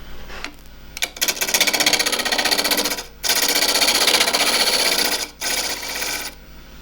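A wood lathe turns a dry jarrah burl bowl as the tool cuts it with a loud, rough, chattering rasp. Three sustained bursts are broken by brief gaps where the cut stops.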